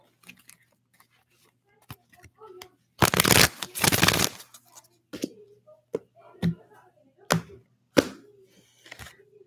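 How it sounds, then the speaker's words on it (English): Tarot cards being shuffled by hand, with soft riffles and scattered taps, then a loud burst of dense riffling in the middle, followed by scattered card snaps and handling noises; no talking. "One more shuffle."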